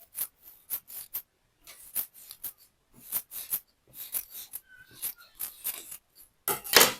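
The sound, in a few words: scissors cutting fabric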